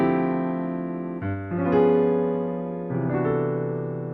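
A piano voice-leading progression through polychords: several rich, sustained chords struck in turn, one shifting into the next and left to ring, with no talk.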